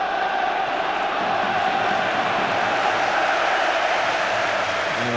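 A dense, steady football crowd roars at a Wigan Athletic vs Arsenal match, a continuous wash of stadium noise at a constant level with no distinct breaks.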